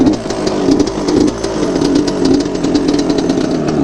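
A Yamaha Banshee quad engine fires up after a kick start and runs close by, a loud rough two-stroke buzz with a steady rattling pulse throughout.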